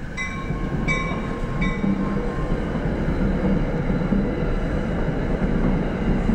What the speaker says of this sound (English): I hear the train, maybe.